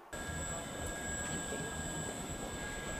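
Steady jet engine roar at Manchester Airport, a broad continuous rumble with high whining tones, fairly quiet and distant, no voices.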